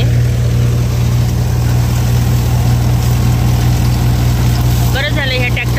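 Tractor engine idling at night on a farm during soybean threshing, a loud steady low drone throughout with a short burst of chirping or squeaking near the end, heard up close.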